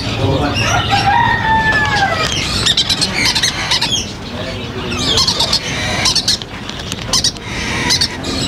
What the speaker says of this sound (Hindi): ये देखें वसीम भाई माशाल्लाह, ये रात के चिक्स पड़े हैं हमारे पास।